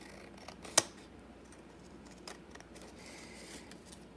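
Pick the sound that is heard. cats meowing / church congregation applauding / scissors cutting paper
scissors cutting paper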